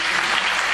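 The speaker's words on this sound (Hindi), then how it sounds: "एक बार जोर से ताली हो सकती" An audience applauds at an academic lecture on training and assessment, a dense, loud, even burst of clapping heard alone.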